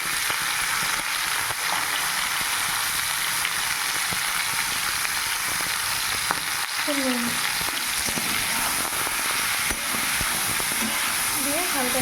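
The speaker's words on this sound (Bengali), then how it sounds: "এগুলো সেম ভেজে নেবো হালকা নুন দিয়ে খুব বেশি ভাজবে না খুব হালকা ভেজে চলে নেবো" Flat beans and other vegetables fry lightly with salt and turmeric in a kadai, giving a constant hissing sizzle with occasional stirring clicks; a faint voice comes through now and then.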